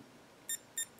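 Avon Tech portable weather station alarm clock, model F3730621, giving three short, evenly spaced electronic beeps, close and clear over a quiet room background.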